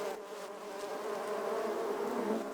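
Honeybees kept on movable frames by a migratory beekeeper hum in a close, steady, droning buzz, the busy layered tone of many bees at once, with no voices.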